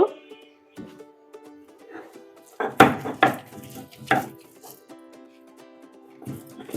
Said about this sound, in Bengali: এই যে আমি বেটে নিচ্ছি